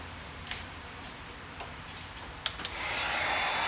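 Hot air blowing steadily onto the headlight seal of a 2015 or later Dodge Charger or Challenger, a faint continuous hiss with a few soft clicks and taps, growing slightly louder toward the end.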